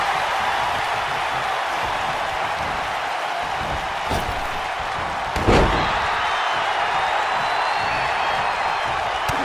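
A wrestler is slammed to the mat in a Vince McMahon versus Chris Jericho match: one sharp impact thud stands out midway through the constant roar of a crowd.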